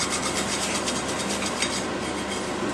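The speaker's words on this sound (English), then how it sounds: "once you've scraped all the Teflon and some of the potato off the bottom of the pan" Metal scraper rasping steadily across a pan bottom, grinding away potato and Teflon coating in a continuous close, gritty rub with no pauses or voices.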